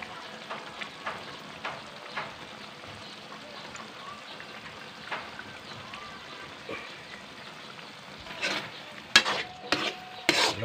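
Rabbit afritada, just seasoned with liquid seasoning, is stirred in a pan: soft scraping stirs and a low simmering sizzle, quiet and close, with a few sharper clinks and scrapes building near the end.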